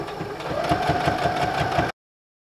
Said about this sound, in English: then we just start to sew again